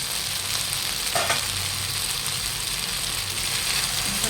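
Chicken pieces for dum biryani fry over low heat in a pan, giving a steady, close sizzle with a brief clink partway through.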